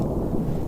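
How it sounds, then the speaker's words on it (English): Low thunder rumbles steadily in the open air during an archery elk hunt, a brief deep roll with faint wind and no voices. "There's the thunder."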